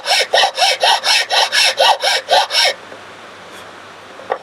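Hand file cutting a 45-degree relief chamfer into a wooden box part: about ten rhythmic, evenly spaced rasping strokes, close and fairly loud, then the filing stops and quiet room tone follows.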